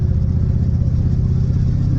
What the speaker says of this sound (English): oh, that's a good sounding exhaust. Small block 350 is just a good sounding engine